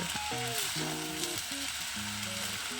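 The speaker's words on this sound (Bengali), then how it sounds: "আমি আগের থেকে রাইসটাকে সেভেন পার্সেন্ট সেদ্ধ করে নিয়েছি এবং মিশিয়ে দিচ্ছি" Parboiled rice being gently mixed in a frying pan gives a steady, soft sizzle with light stirring, close and without voices, over a faint tonal hum in the background.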